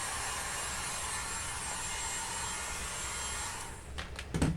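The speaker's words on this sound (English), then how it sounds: "a blow dryer does the trick." A blow dryer dries Aleene's Tack It Over & Over glue on a Cricut cutting mat, giving a steady, loud, close whooshing roar that runs throughout, then a few brief clattering knocks near the end.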